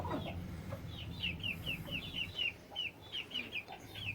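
Young Thai Shamo and Aseel chicks from a home breed give a rapid series of small, high chirping clucks, evenly spaced over a few seconds against a low background rumble.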